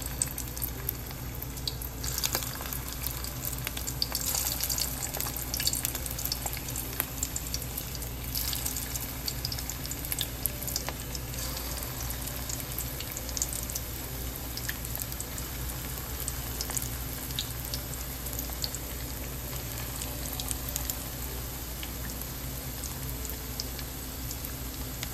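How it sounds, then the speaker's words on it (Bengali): Fish kofta balls fry in hot mustard oil, making a continuous bubbling, hissing sizzle with small irregular crackles. The sound stays steady and moderately close for the whole stretch, with no voices. "এবার ওদিকে তেলটা গরম বসিয়েছি, এগুলো এখন ভেজে ফেলবো।"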